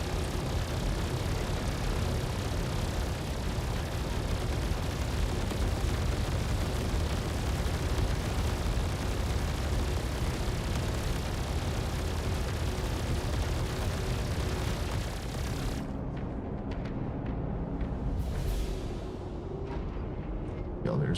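Torpedoes explode in a video game as a dense, sustained roaring rumble lasting most of the stretch, then it cuts off abruptly into quieter background with a faint later burst.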